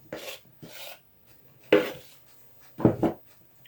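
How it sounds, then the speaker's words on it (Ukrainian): Thick stollen dough being worked with a spatula in a bowl, giving three separate bursts of scraping and rubbing with quiet gaps between them, close and fairly loud, with no talking. "І потихеньку замішую тісто. Знов додаю борошно."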